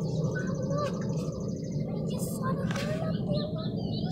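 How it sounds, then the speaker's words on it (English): Small bird chirping in a home garden among watermelon and pumpkin plants, short tweets scattered over a steady low background rumble, with people talking nearby. "Oh, yeah, it's a bird."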